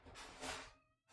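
A single drawn-out cat meow, loud and close, swelling in the middle and trailing off, followed by a brief second sound.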